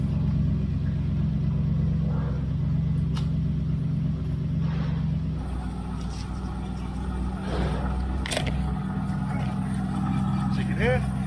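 A 1971 Triumph Stag rolls along in drive, its drivetrain giving a steady low drumming rumble beneath road and cabin noise, loud and continuous from inside the car.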